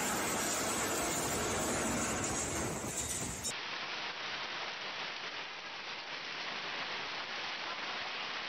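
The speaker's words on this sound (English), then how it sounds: "Meteorologists explained the storm as a supercell phenomenon caused by the warm Mediterranean air colliding with a cold" Heavy rain pours down during a supercell storm in Rome, a dense, steady hiss of rain hitting surfaces. Partway through, the sound turns duller and more muffled.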